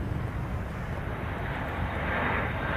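A KLM or Lufthansa airliner departing at Chicago O'Hare gives a steady, broad engine roar at moderate distance, with wind rumble and no voices.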